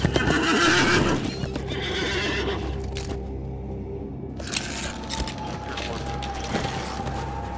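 A horse in an online fantasy video game whinnies and its hooves clip-clop in a steady rhythm, close and clear, with a few other game sounds around it.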